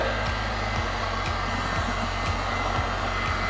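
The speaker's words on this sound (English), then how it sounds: "turn on the vacuum, and let the suctions work its magic" A Wrap Vac wrap vacuum switched on and running, its suction motor giving a steady loud whirring drone with a faint regular pulsing, close and continuous throughout.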